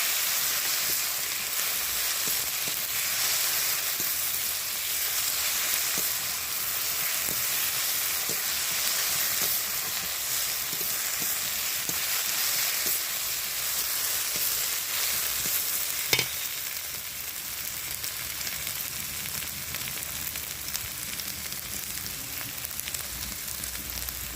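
Oil sizzling hard in a pan as spices for a chicken curry with potatoes fry, a loud, dense, continuous crackle heard up close with faint stirring scrapes and no talk.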